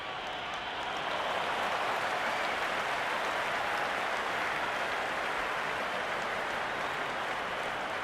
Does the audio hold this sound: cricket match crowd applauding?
yes